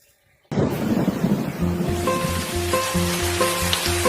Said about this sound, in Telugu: వర్షం అయితే ఘోరంగా కొడుతుంది